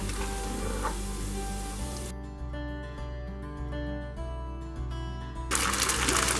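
Cooked rice and moong dal tipped into a hot tempering in a pan for khara pongal, a broad hiss of frying at the start and again at the end, with quieter background music between.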